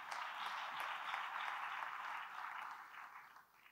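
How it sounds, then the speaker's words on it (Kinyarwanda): A church audience applauds a preacher, a sustained wash of clapping that holds steady and then eases off slightly toward the end, heard at a moderate distance without voices. "ndagira ngo tubikomere amashyi tunamushimira"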